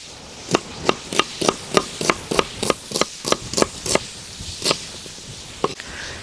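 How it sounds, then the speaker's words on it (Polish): A knife dices onion finely on a cutting board, producing a quick, even run of crisp chops at about three per second that slows and trails off into a few scattered taps. "Dodajemy teraz cebulę. Również drobną kostkę."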